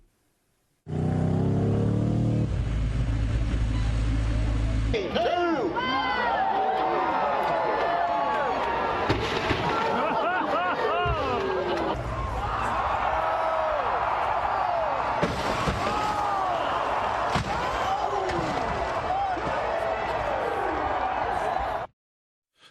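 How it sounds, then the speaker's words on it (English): Old cars driven off a cliff in Alaska at a Fourth of July celebration: a low engine rumble gives way to loud, continuous crowd shouting and whooping, with scattered crashes and bangs under the voices. "In Alaska, this is how they celebrate the 4th of July. They find old cars and drive them off a cliff."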